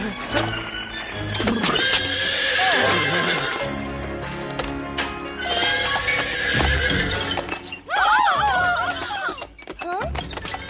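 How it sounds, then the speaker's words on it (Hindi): A horse neighs and whinnies loudly in a kitchen, the sharp wavering call rising near the end, with hoof clops and knocks amid music and talk. "ये घोड़ा हमारे किचन में क्या कर रहा है?"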